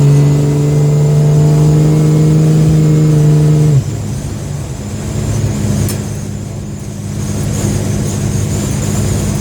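A Ford XM Falcon fitted with an untuned AU engine revs with a loud steady drone, then the note drops as it accelerates hard on the road, leaving a roaring, rushing engine and wind noise throughout.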